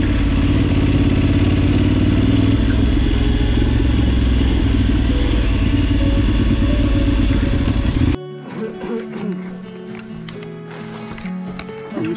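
An adventure motorcycle engine, sounding like a 990, runs loud and close with a steady throbbing rumble for about eight seconds before cutting abruptly to quieter mixed ambient noise.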